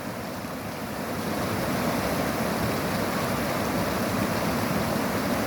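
Floodwater of the Musi river in Hyderabad rushing during heavy rain, a loud continuous roar of turbulent water with wind buffeting, no voices.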